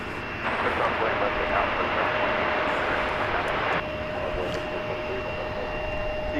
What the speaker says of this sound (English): We will have at least some taxiing action. From a UPS MD-11.